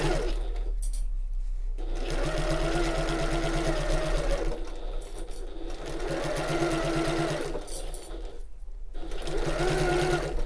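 Sewing machine running in long steady bursts while stitching around the top edge of a tote bag, a fast buzzing hum with brief pauses between passes.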